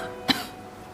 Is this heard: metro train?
no